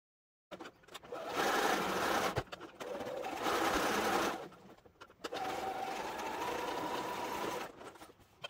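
A sewing machine stitches quilt block rows together for a 15-inch Churn Dash block, running in three steady, fast-humming bursts separated by short pauses, close and clear with no talk.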